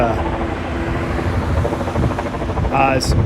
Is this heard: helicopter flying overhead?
yes